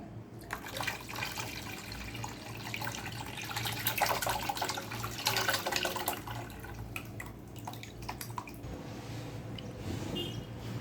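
Water pours and splashes steadily into a blender jug holding ground tamarind and dried plums, ready for straining into a sharbat, a soft continuous wet trickle with small splashy squishes throughout.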